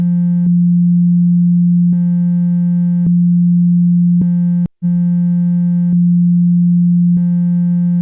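A pure, steady sine tone from the Serum software synthesizer holds a low pitch, briefly joined at intervals by brighter harmonic layers, with one very short dropout near the middle.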